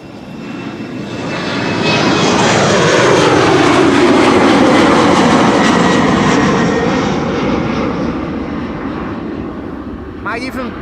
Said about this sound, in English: That is if the KLM 737 to Ibiza is beginning to roll